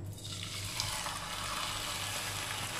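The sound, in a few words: chicken frying in a hot pan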